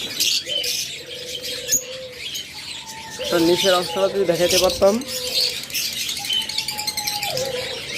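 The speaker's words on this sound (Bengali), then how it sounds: "একদম pure Holland blood line big সাইজের লাভবার্ড" Yellow collar lovebirds of a big-size Holland bloodline chirp in quick, bright bursts through a steady chatter of many birds, while someone talks over them at close range.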